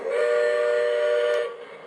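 A Lionel Southern Pacific 4-6-2 Pacific model steam locomotive sounds its electronic steam whistle in one steady, loud blast of nearly a second and a half, which then cuts off into a faint hum.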